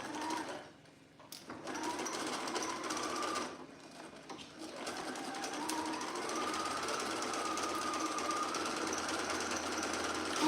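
A domestic sewing machine stitches fabric in fast, rattling bursts with a slight squeak, stopping briefly twice before running steadily again.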